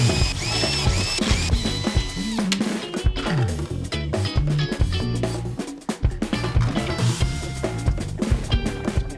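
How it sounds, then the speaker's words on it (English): A power drill fitted with a half-inch socket spins out screws on a Nord Stage keyboard, giving bursts of whirring and ratcheting clicks close up with rapid start-stop pulses throughout. "feel free to use a drill with a little half-inch socket on it to take"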